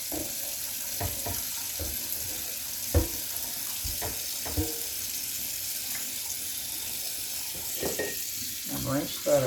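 Tap water runs over an Instant Pot lid being rinsed, a steady faint splashing hiss with intermittent knocks and clatters as the lid is handled, close by and quiet.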